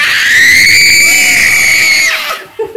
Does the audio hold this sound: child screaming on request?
yes